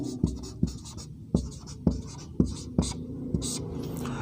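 Chalk or marker writing on a board during a lesson: a series of short, sharp strokes and taps in an irregular rhythm, close and fairly quiet, with no talk over them.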